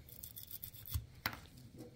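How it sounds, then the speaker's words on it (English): An old toothbrush scrubs Desert Eagle .44 pistol parts in short, brisk bristle strokes close up, with a couple of sharper scrapes and no talking. "An old toothbrush to get down and just try and wipe the edges."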